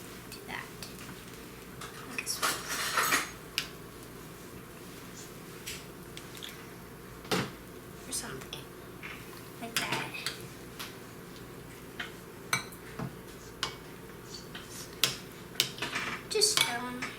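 A spoon scoops filling into zucchini boats, with soft scrapes and light taps on a dish recurring irregularly against a quiet kitchen background.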